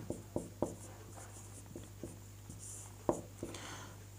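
Pen writing Sanskrit text on paper: a run of quick, close scratching strokes in irregular rhythm, some louder taps among softer scrapes, over a low steady hum and no speech.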